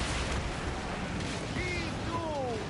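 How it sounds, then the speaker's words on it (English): Catapults firing from warships during a naval battle in Assassin's Creed Origins, heard as a dense, continuous rumble of heavy bursts and booms with whistling projectiles arcing overhead, under battle noise and voices. "Our catapults will fire upon your order."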